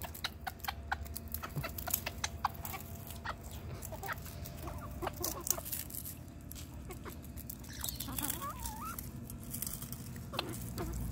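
Rooster and chickens peck and cluck over biscuit crumbs, with scattered close clucks, soft pattering and scratching over a low steady background, fairly quiet throughout.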